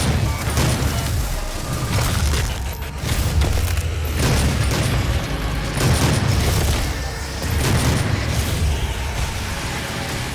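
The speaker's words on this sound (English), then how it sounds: "My personal standout is the Super Shotgun." Super Shotgun blasts in the video game Doom 2016, heavy bass-laden booms repeating roughly every second or two over a dense, continuous wall of game noise and music.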